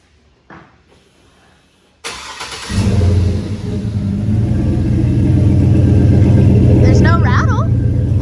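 A tow truck engine cranks and catches, then settles into a steady, loud, close rumbling idle with no rattle; a voice speaks briefly near the end.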